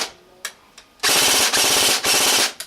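A G&G AK-47 airsoft gun with a home-built MOSFET cracks out a few single shots, then a long, loud, rapid mechanical burst of closely spaced pulses and a final short shot.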